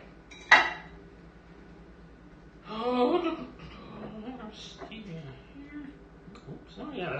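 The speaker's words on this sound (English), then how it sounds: "we got some dirty spoons and measuring cups and our butter plate" Dirty spoons, measuring cups and a butter plate clink and clatter as they are handled, with one sharp knock early on and then scattered rattling under a person's talk and light laughter.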